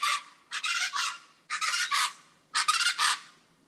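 Large birds in the beach town of Sayulita, Mexico give harsh, raspy squawks in three bursts, calling back and forth close by.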